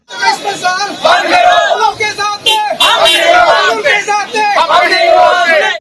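Parents protesting outside a school chant slogans as a loud massed crowd, voices rising and falling in repeated shouted bursts that fill the clip.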